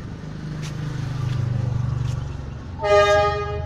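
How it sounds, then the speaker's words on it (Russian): A train rumbles past at moderate distance near a railway station in Nha Trang, Vietnam, then a loud multi-tone horn sounds near the end, lasting about a second. "Это поезд, железнодорожный вокзал тут недалеко."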